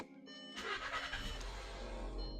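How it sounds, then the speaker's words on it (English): A used car with 212,000 miles cranks and its engine catches, settling into a steady idle with a low rumble close by. "Now, another thing that we're going to want to look at, which is probably the most important thing, is turn the vehicle on."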